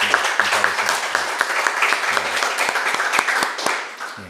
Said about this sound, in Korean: 우리 큰 박수로 한번